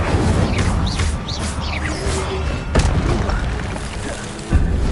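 A fire spell cast in the Hogwarts Legacy video game, a loud booming burst with crackling magical whooshes and a sharp impact near the middle, layered over steady game ambience with a second thump at the end.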